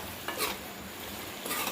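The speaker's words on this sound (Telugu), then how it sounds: "ఇవన్నీ మాడిపోకుండా మధ్య మధ్యలో అయితే కలుపుకుందాము." Bottle gourd curry is stirred as it fries in oil, with a continuous dense sizzle and soft scraping of a spoon in the pot over a short stretch.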